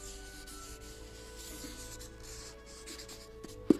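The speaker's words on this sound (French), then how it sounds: "je dessine heureusement assez vite" Pencil or pen sketching quickly on paper, a soft continuous rubbing and scratching texture that stays faint and close throughout, ending with a brief louder tap.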